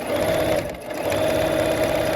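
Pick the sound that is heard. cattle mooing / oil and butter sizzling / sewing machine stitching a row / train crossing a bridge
sewing machine stitching a row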